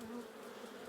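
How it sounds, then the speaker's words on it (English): Honeybees buzz around a freshly made-up soft hive frame during a heavy nectar flow, a dense, steady hum of many wings close by without a break. "So I brush these bees off."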